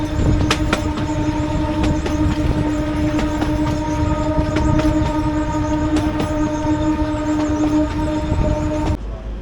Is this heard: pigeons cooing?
no